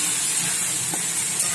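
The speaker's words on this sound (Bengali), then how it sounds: "এখন এটাই ভাজা ভাজা হোক" Onion, garlic and ginger paste frying in a pan gives off a steady, even hiss, close and continuous with no voices over it.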